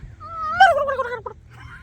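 Turkeys gobble loudly and close by, a burst of warbling, rising-and-falling calls with a short follow-up note.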